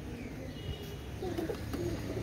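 Pakistani Royal Teddy pigeons cooing softly in low, repeated throaty calls, steady and close, with no talking.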